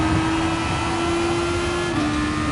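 An open-wheel race car in Gran Turismo Sport holds a steady, high-revving engine note, loud and sustained, easing slightly near the end.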